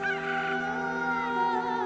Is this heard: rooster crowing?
yes